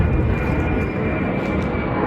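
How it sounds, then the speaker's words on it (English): A plane passing overhead above an upmarket part of Amman, heard as a steady, broad low roar with constant loudness and no talk over it. "Can hear the plane going over"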